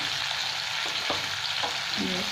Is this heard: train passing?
no